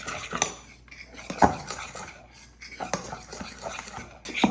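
Protein pancake batter flavoured with cinnamon is stirred in a bowl, giving close, irregular scraping and light clinks of a utensil against the dish in short bursts with brief pauses.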